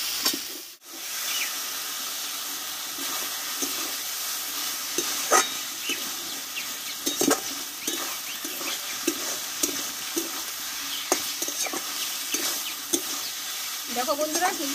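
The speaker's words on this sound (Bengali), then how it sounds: "মশলার সঙ্গে আলুটা ভালোভাবে একটু আমি 2 মিনিট মতন কষে নিয়েছি" Potatoes sautéing with spices in a pan, a steady soft sizzle with repeated scraping and stirring strokes from a spatula against the pan, continuous and close throughout.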